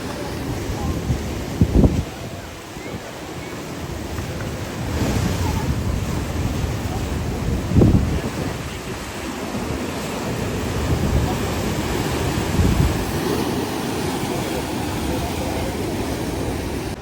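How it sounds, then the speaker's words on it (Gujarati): Sea waves at Dwarka roll in as a constant roar with a few heavier surges breaking, wind gusting on the microphone, and a person speaking over the surf. "દૂર દૂર સુધી આપણે જોઈ તેવું બસ મોજા જ મોજા દેખાય છે"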